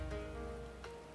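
Steady rainfall in Final Fantasy XIV on a tropical island, a continuous soft patter and hiss with a brief brighter splash near the end, no voices.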